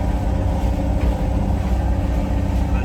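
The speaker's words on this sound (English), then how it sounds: "sorry for the noise of the engine" A sailboat's engine runs steadily with a loud, low rumbling drone and no pauses, close up and continuous throughout, crossing the Bay of Biscay.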